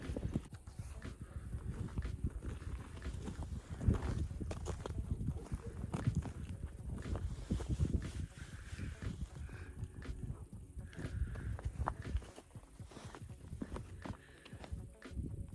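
Steady clip-clop of horse hooves walking on a hard surface, close by, with faint rustling and a few quiet voices in the background.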